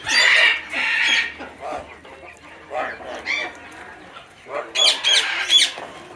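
A turkey clucks and squawks in a series of close, loud calls, with a second burst of louder clucking near the end.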